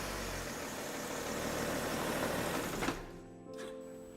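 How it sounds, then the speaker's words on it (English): A BMW 5-series E61 LCI engine idles steadily after an oil and filter change, a close, even running drone that cuts off near the three-second mark, leaving faint quiet residue. "So you start the engine and let it run for about 30 or 45 seconds"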